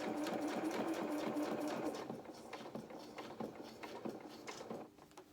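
A sewing machine stitches a seam on a small opera coat for a Luna Lapin toy, quick rhythmic needle thumps that slow into a few spaced bursts before stopping.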